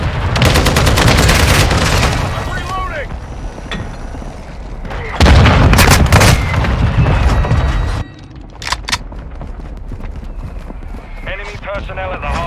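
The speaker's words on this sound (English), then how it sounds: "Hostile mortar strike in the area." Loud explosions and gunfire from mortar strikes in Call of Duty Modern Warfare II multiplayer Hardpoint, heavy booms near the start and again in the middle, with scattered shots and a radio-style voice over the battle noise.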